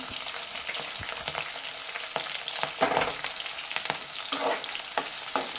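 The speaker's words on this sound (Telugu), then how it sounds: "మంచిగా వేపుకోవాలి పోపుని" Onions and green chillies frying in tempering oil for a ridge gourd curry, a loud continuous sizzle broken by repeated scraping stirs of a spatula, close up with no talking.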